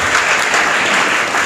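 A brief burst of dense, steady clapping from an audience at a school award ceremony, loud and continuous for a moment.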